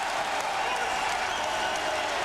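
A Georgetown home crowd at a 1996 men's basketball game against UConn roars with cheers and applause, a steady, dense wall of arena noise with a voice over it.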